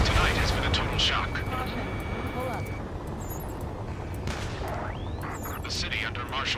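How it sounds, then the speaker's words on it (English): In the Ace Combat 7 combat flight game, gunfire and jet roar fill a city under martial law as a dense, continuous rumble with scattered booms and passing jet whooshes. "Gunfire and the roar of jets echoing through the streets."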